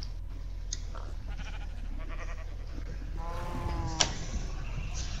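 A sheep bleats in the survival video game SurvivalCraft, one wavering call rising mid-clip over a low ambient rumble, followed by a sharp click; no talking.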